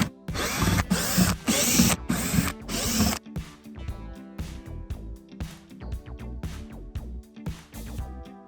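A cordless drill or power screwdriver removing screws from the motor compartment side panel of a Vaniman dust collector, with loud bursts of whirring around short pauses, then a run of quieter, rhythmic ratcheting clicks.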